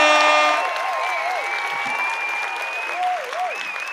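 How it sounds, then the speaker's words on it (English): Applause from an audience at a live talk show, a steady broadband patter that fades slightly after the first half second and carries on under tonal background music. "I give you a round of applause"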